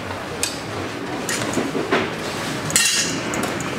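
Metal hammer strikes during a full service of an enduro motorcycle at the ISDE 2016 six-day event, a few sharp clinks spread over a few seconds amid steady workshop background noise.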